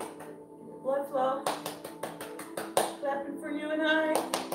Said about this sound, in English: Clapping for you and I.